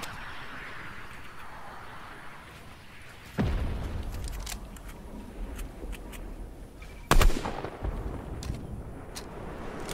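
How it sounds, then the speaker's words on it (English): Gunfire in the video game Fortnite during a duos match: two loud, sudden broadband shots or blasts, one near 3.4 seconds and a sharper one near 7 seconds, over a steady background of game ambience. "Watch out. They're shooting."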